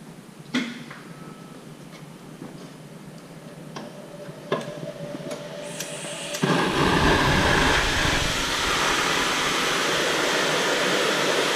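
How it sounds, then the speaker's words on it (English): Near-silent room with a few small ticks and knocks, then an air compressor feeding a jewelry soldering torch for ring soldering kicks on abruptly about halfway through and runs as a loud, steady broadband hiss. "It's going to get a little bit noisy now while I put the air compressor on."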